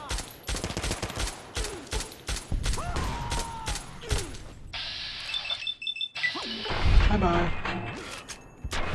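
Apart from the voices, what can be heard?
gunshots in video game Fallout New Vegas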